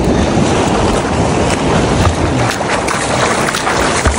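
Big waves hit a boat at sea, a loud, close, continuous rush of water and wind buffeting, with no clear voices.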